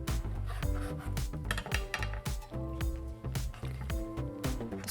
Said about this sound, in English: So we're going to cut into strips.